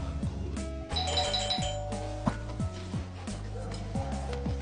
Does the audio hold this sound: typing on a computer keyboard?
no